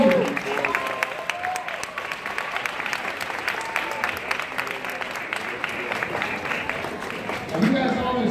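A school winter concert audience applauding the band director, a crisp flurry of claps mixed with crowd chatter and voices, fading slightly before a brief louder swell at the end.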